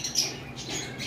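Caged pet birds in a bird shop giving short harsh squawks, brief and fairly faint, with no voices over them.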